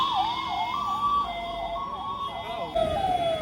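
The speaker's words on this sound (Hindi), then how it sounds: "एम्बुलेंस इतनी सारी आ रही है" An ambulance siren wails in rising and falling sweeps as it passes through a busy street, loud and close, with several emergency vehicles heard near a church during Christmas crowds.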